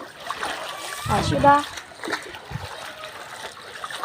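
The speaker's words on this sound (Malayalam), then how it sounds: "വെള്ളം ഒഴുകുന്നതിൻ്റെയൊക്കെ." A clear stream flows and splashes continuously, with a brief louder burst of splashing partway through. A voice speaks over the running water.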